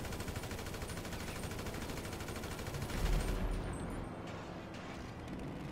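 Gunfire in the GTA 5 game: a steady, dense stream of distant-sounding shots and rumbling, with a louder thump near the middle, fairly faint overall and no clear talk.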